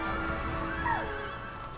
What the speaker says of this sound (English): Oh, these got a flying horse?